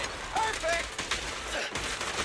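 Gunfire in the Zenless Zone Zero video game: rapid, dense bursts of shots crackling continuously for a couple of seconds, with game effects and background music mixed in.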